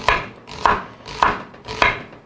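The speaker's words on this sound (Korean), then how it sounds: "양파를 너무 얇게 말고 이렇게 도톰하게 쓰는 게 좋아요" A knife cuts thick slices of new-season onion on a board, four crisp, evenly spaced chops, close and clear with no voices.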